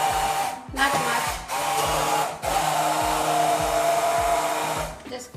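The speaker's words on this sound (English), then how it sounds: "So we're gonna grind with the hand grinder a little bit." A hand grinder whirs through boiled dal in short coarse bursts, cutting out briefly between pulses, loud and close.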